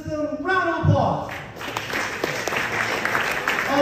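A round of applause from high school seniors in a classroom or auditorium, starting after a brief voice and building into steady clapping that fills the rest of the moment at moderate loudness.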